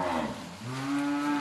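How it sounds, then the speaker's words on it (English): A cow lets out one long, low moo at close range as cattle come into a grassy pasture, a brief rougher sound before it, with no talk. "As the cows come in, they're very happy."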